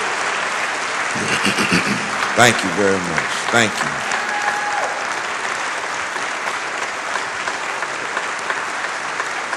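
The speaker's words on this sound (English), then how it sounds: "let's give all the greats, dead and alive, a big round of applause." Audience applause at a memorial concert, sustained clapping throughout while someone speaks over it at the start.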